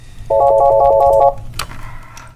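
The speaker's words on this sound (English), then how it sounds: "It's a phone line that some days rings off the hook." Telephone at an avian medical clinic rings with one loud, near electronic trill lasting about a second, then stops, followed by a brief click and faint room noise.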